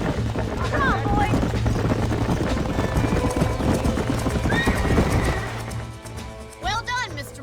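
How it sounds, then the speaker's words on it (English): Horses in the Red Dead Redemption video game whinny several times over steady clip-clopping hooves, with a loud, busy game soundscape underneath and people talking throughout. "These are fine horses."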